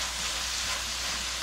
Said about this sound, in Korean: 볶아주세요.